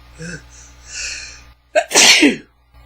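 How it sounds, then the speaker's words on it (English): A faint breathy intake and murmur, then one loud, sharp sneeze bursts out close by. "Oh, I'm gonna sneeze."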